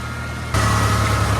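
Swaraj tractor engine driving a mulcher through dense barru grass, a steady loud low drone that jumps up in level partway through and holds constant, close by.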